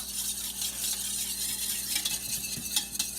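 Egg yolk is beaten for breaded chicken strips, a fork or whisk scraping and clicking rapidly against a bowl in quick, uneven strokes over a low background hum.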